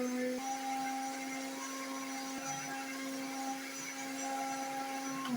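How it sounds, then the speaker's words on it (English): A blender runs on high speed, blending soaked soya beans with water, as a steady, loud, continuous motor whine with a constant hum and no talking. "cover my blender, and then I'll go and blend this on high speed till smooth"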